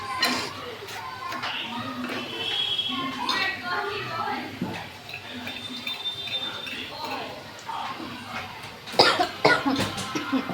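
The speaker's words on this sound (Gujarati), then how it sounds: "નાની અત્યારથી જો ઉધરસ આવવા માંડી ગઈ" A young girl coughs several times, sharp and close, amid kitchen clatter and nearby talking while khichu is cooked, with a louder burst of coughing toward the end.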